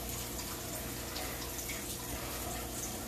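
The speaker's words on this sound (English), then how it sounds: "I'm gonna wash my face" Tap water runs steadily into a sink at close range, a dense continuous splashing rush with no break and no voices.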